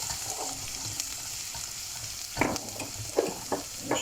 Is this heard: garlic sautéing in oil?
yes